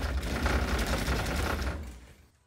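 A steering wheel on a 1979-1983 Toyota pickup is struck rapidly on opposite sides, making a dense, steady rattling buzz that stays loud and even and then fades out at the end.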